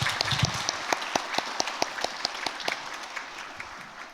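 A church congregation at a Sunday afternoon service breaks into steady, sustained applause, with many hands clapping at close range and a few louder individual claps standing out.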